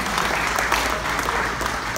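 A crowd claps steadily and densely throughout, a sustained round of applause from an audience at a talk with no break in the sound.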